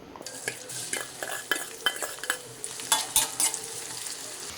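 Onions frying in oil in a pan for mango mutton curry, with close, busy stirring of spoon against metal and bursts of crackling sizzle.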